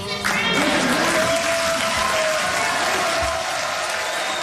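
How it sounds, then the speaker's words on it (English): A crowd in a legislative gallery jeers and shouts during a governor's speech, a continuous loud wash of voices with scattered claps, heard close and unbroken for several seconds. "The jeers from the gallery continue."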